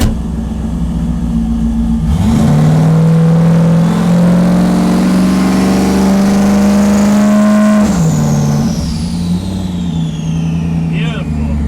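A junkyard turbo LS engine in a Foxbody car revs and holds at a steady high drone during a two-step launch control test, loud and close, then drops off and swings back up, with speech faintly under it.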